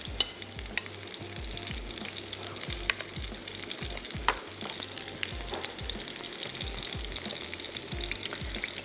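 Saag greens with koftas frying in a pan, a steady close sizzle with repeated scraping stir strokes throughout.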